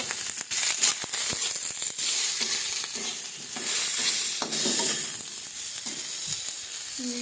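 Eggplant fries in a pan with turmeric and salt, a steady bright sizzle running throughout while a utensil stirs and scrapes in intermittent clicks and knocks; no one speaks.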